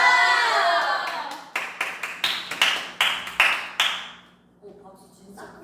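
A few people clap in sharp, separate, close claps during a group livestream: about ten distinct slaps in an uneven rhythm, then quiet with faint talk afterward.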